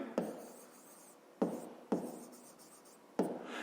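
An equation is written out by hand for a fifth-grade maths exercise: several sharp pen taps and scratchy strokes come close and quiet, separated by brief pauses.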